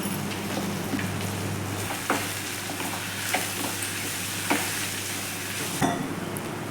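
Bitter gourd with chili powder, turmeric and salt sizzles steadily in a hot pan while a utensil scrapes and stirs every second or so, fairly close and quiet, with no talking.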